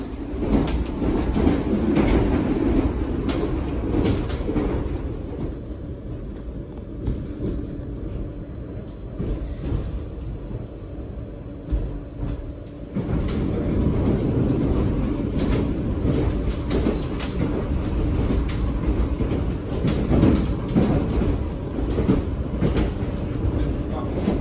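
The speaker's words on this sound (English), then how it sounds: "shouldn't be too long before the train starts" A passenger train heading toward Ryde Pierhead rumbles and clatters along the rails, with a steady loud roar, a quieter stretch midway, then heavier running with rhythmic clicks.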